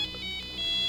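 A phone rings with a short electronic ringtone, a few bright, clear tonal chirps repeating in quick succession at moderate loudness, heard alone for under a second.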